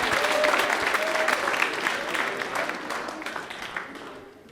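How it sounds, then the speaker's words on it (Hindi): A studio audience on a Rajasthani TV quiz show breaks into loud, sustained applause that fades gradually over a few seconds, heard up close. "चलिए तालियां भाई जोरदार हो जाए इनके"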